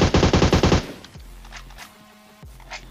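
An OG gun in a battle royale video game sprays a rapid, loud burst of automatic fire lasting under a second, followed by quieter game sounds and a couple of low thuds.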